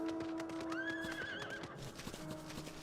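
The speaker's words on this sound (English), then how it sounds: "I kind of hate this mount's foot sounds, really." A horse mount in the online game Final Fantasy XIV whinnies loudly while its hooves clip-clop in a quick, steady rhythm close by, the hoofbeats continuing after the neigh fades.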